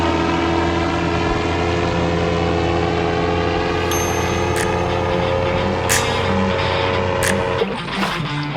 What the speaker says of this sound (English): that doggone paraglider still hadn't run out of fuel yet